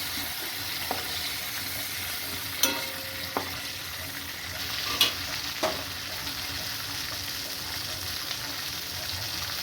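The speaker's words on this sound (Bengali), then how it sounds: "চিংড়ি মাছগুলো ভেজে নেব।" Prawns frying in hot oil in a pan, a steady, moderately loud sizzle with a few sharp utensil clicks and knocks scattered through.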